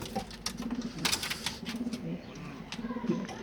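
Pigeons kept for breeding on a balcony coo in low, rolling, repeated phrases, close by and steady throughout, with faint clicks and rustles mixed in.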